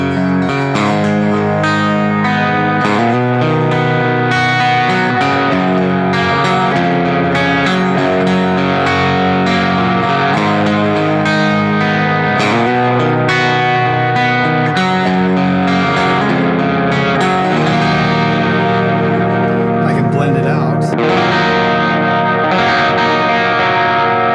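An acoustic-electric guitar plays through its under-saddle piezo pickup blended with its electric pickups and effects, giving a loud, close, continuous run of chords and notes with chorus, delay and some grit, and no talking.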